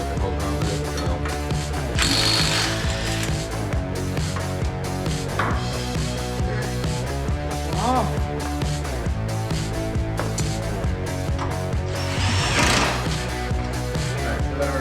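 Ratchet wrench clicking steadily while a car's front coilover is being swapped, a loud, close, continuous mechanical ratcheting with no talk.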